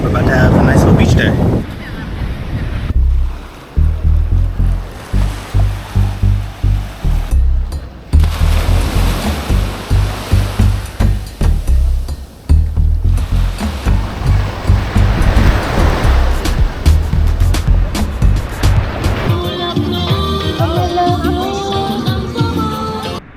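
Ocean surf breaking on a beach in Cancun, a steady wash of crashing waves with wind rumble throughout, loud and close, with people talking faintly in places.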